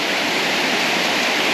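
Kawasan Falls waterfall pours in a steady, dense roar of rushing water, close and loud and unbroken throughout, with no voices over it.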